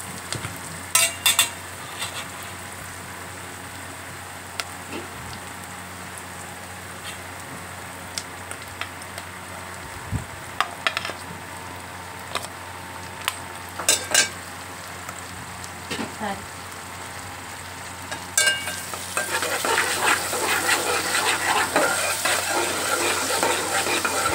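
Onions and tomatoes fry in a pan for a ridge gourd curry, with a steady soft sizzle and scattered scrapes of stirring. The sizzle swells sharply louder near the end.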